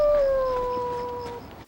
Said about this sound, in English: That dog did not sound interested at all.